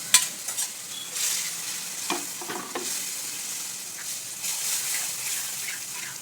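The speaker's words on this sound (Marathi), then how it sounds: "ते शिजलेली डाळी फोडणी द्यायची" Cooked black urad dal goes into a hot tempering for a Khandeshi-style dish with green chilli paste. Oil sizzles and crackles throughout, with clattering stirring strokes in the pan.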